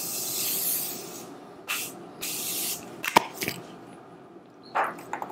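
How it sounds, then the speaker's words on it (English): Morphe Continuous Setting Mist sprayed onto a face as a finishing spray, a loud sustained hissing burst at first, then several shorter close-up spritzes spaced apart, with no talking. "I am going to be using the Morphe Continuous Setting Mist."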